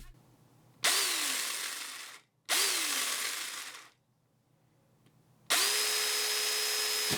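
A real chainsaw cuts into a fabric chainsaw prop in three loud, close bursts of buzzing engine roar, each several seconds long, separated by short silences.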